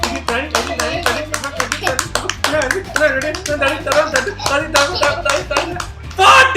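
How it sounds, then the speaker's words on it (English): Rapid claps counted out for a fortieth birthday celebration, a steady run of sharp hand claps close by with voices counting aloud over them throughout. "how many claps here? 100 no, it's only 40 claps"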